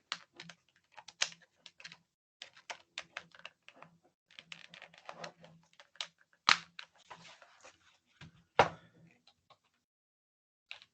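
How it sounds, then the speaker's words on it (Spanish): Keys clatter on a wireless computer keyboard in an indoor class setting, a close irregular run of quick taps with short pauses and a few louder strikes. "Teclado inalámbrico, no creo que se le hayan agotado las pilas."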